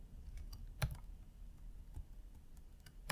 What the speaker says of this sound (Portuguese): digitar o mesmo comando aqui